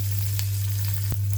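Ginger garlic paste is stirred into hot oil in a pan, a loud steady sizzle with brief scraping stirs, close up and without talk.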